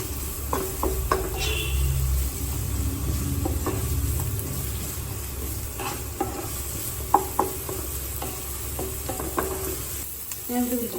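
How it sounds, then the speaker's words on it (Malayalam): Onions with a pinch of salt sizzle steadily in a hot pan, with scattered scrapes and taps of a spoon stirring them through, close and fairly loud with no talking. "ഇതിലൊന്ന് കളർ മാറി വരുന്നവരെ നമുക്കൊന്ന് ഇളക്കി കൊടുക്കാം."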